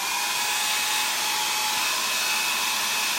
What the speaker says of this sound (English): So I'm gonna hit this with a blow dryer.